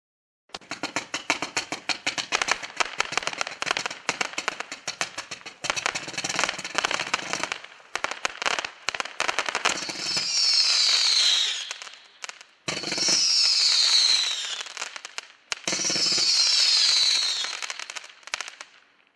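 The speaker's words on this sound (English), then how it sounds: "Number 18, Amazing Ballet Mini, 500 grams from Winco Fireworks, packed 4 ones, 100 shot zipper cake." Winco Amazing Ballet Mini, a 500-gram 100-shot zipper cake, fires a rapid continuous crackling barrage of shots, then three loud sustained bursts with whistling, hissing tails separated by short gaps, close and without talk.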